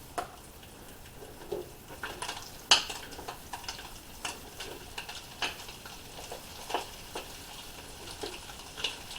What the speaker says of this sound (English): And now we got to whisk all that.